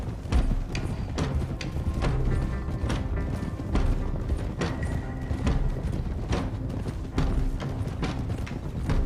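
Horses trot at a steady pace in the video game Red Dead Redemption 2, their hooves making continuous clip-clop beats that sound close and fairly loud.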